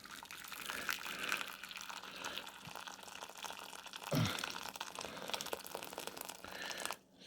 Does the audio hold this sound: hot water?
yes